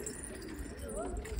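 Pigeons cooing softly in a bird enclosure, low murmuring coos forming a steady, faint background with a few brief rising calls.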